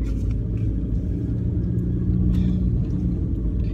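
A car engine accelerates gently in first gear, a loud steady low rumble from inside the vehicle with no sharp revving.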